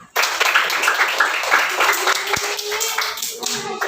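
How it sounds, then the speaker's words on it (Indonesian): A class of students claps hands together in sustained, dense applause at the close of an Islamic studies lesson, fairly loud and near, with voices mixed in under the clapping. "tepuk tangan untuk semuanya"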